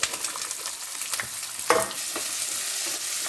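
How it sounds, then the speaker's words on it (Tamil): Small shallots, finely chopped and stirred with fennel seed in sesame oil, fry in a pan for chicken sinthamani, giving a steady close sizzle with occasional scraping stirs and one brief louder clatter of the spoon. "நல்லா வதக்கிக்கோங்க."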